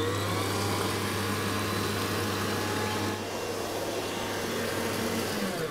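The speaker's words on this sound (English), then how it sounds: "we're using the wire whisk to get them nice and fluffy." Steady, continuous motor whir of a stand mixer with a wire whisk beating whole eggs and caster sugar, loud and unbroken from start to finish, with no talking.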